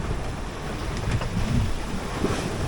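A sailboat glides through flat seas under a steady, unbroken rush of wind and water, with no voices.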